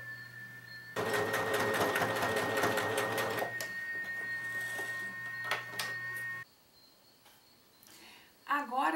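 Sewing machine stitching a ribbon onto fabric for a zippered bread basket, running in a steady fast whir for several seconds, then stopping with a few faint clicks afterward.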